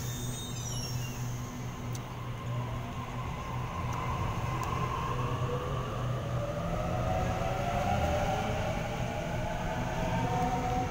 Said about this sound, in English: Here departing from platform 4, we have Thank You Waratah, bound for Richmond.